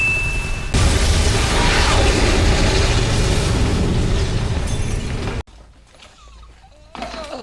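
A loud, dense blast from the 2007 Hitman video game rumbles continuously for about five seconds, then cuts abruptly to quieter clattering debris and scattered effects.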